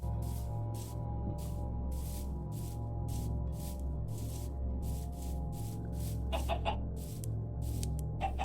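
Minecraft chickens cluck in short, repeated bursts over a steady low in-game background hum, fairly close, with a couple of faster clucking clusters near the end and no talking.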